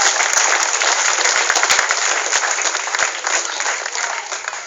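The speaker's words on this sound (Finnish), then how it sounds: "Annetaan hänelle aplodit" An audience at a chicken wing-eating contest applauds the runner-up: loud, dense clapping from a crowd that fills the space, gradually thinning toward the end.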